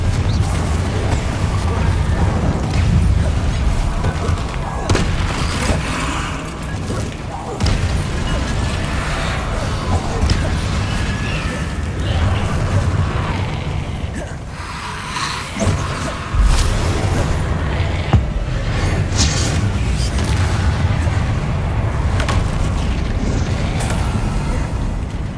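Confringo fire spell blasts in Hogwarts Legacy, a dense run of loud booming bursts over constant game noise, with voices talking throughout.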